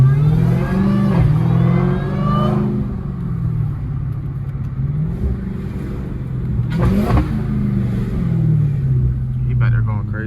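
A Dodge Hellcat V8 with its hood removed revs hard, loud rising and falling engine roars with a deep rumble, heard up close from the driver's seat while someone talks over it.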